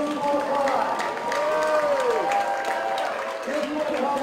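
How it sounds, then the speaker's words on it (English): Crowd at a Schoolgirl Cup grand final applauds and cheers the champions, a steady wash of clapping and voices with an announcer's voice audible over it. "Can we get another round of applause for our Schoolgirl Cup champions, Hill Sport 5?"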